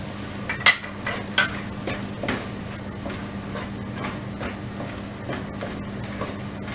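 Pav bhaji mixture of pureed tomatoes with red chili powder, salt and pav bhaji masala cooks in a pan, giving a soft, steady sizzle with a few brief stirring scrapes near the start.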